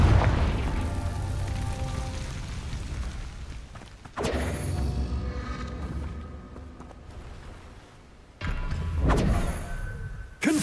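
Confringo blasting spell explosions in Hogwarts Legacy: deep, heavy booms burst out at intervals, each followed by a rumbling decay, over busy combat ambience with no talking.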